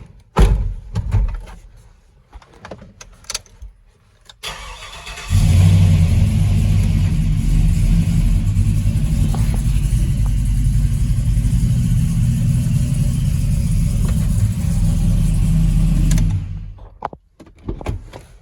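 A door thuds and clicks, then a Chevrolet Silverado pickup truck engine starts and idles with a deep steady rumble for several seconds while reversing a short distance, before shutting off.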